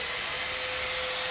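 A wood router running after being switched on: a steady, loud motor whine with a sustained high tone and no break across the moment.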